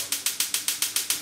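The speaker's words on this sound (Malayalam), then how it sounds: "ഞാൻ പറയാതെ തന്നെ സ്റ്റൗ കത്തിച്ചല്ലോ" A gas stove's igniter clicks eight times in quick, even succession, sharp and close, with no voices.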